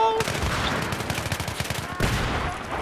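Rapid automatic gunfire in Battlefield 3, a dense run of sharp, evenly spaced shots, loud and close, with a brief pause and another short burst near the end.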